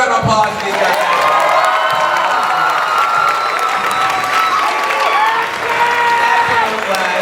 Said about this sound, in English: Let's give a big round of applause to these guys.